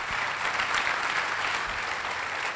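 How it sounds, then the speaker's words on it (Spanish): A church congregation applauds the Lord after a sermon, a steady dense wash of clapping at moderate level with no talk over it. "Démosle al Señor un fuerte aplauso"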